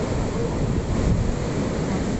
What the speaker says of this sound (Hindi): पानी में डूबे मंदिर को देखकर ऐसा लगा कि मानो वहां कोई नदी तेज बहाव में बह रही हो।